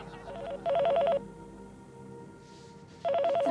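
A telephone rings indoors in two bursts of electronic trilling bells separated by a pause, clear and close, with no one speaking.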